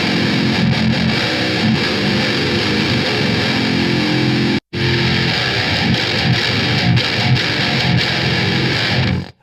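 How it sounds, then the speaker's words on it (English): Heavily distorted metal guitar played through a Marshall JCM 2203-style amp simulation, loud and dense chugging riffs with a brief cut near the middle, no talking. "which I'm assuming is based off a Marshall JCM 2203 amplifier"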